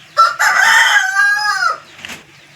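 A rooster crows once, loud and close, a long drawn-out call followed by a faint cluck, at a farm with chickens.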